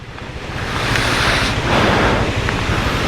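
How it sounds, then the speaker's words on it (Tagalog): Loud, steady rushing water of a strong river current on a rainy mountain roars continuously, a broad wash of noise with slight swells, close by and without any talking. "Grabe, lakas ng current niya, no?"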